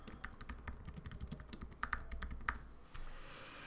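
Rapid computer keyboard typing while entering a blog post title, a quick irregular run of close, crisp key clicks with a short pause near the end before a last burst.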